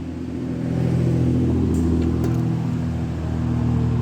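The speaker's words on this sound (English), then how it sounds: "a lot of traffic today" Road traffic rolls past on a busy holiday weekend, a steady low rumble of car engines that swells slightly as vehicles go by, with no talk over it.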